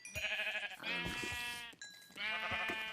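Three loud, drawn-out bleats from sheep in a Minecraft-style video game, each a sustained wavering cry with brief gaps between them, heard close and alone.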